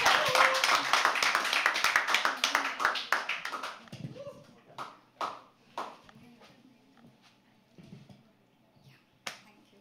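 Audience applause at a live poetry open mic at The Habitat, a dense burst of clapping for the first four seconds that thins to scattered claps, with a few voices talking over it.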